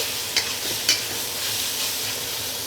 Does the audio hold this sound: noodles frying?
yes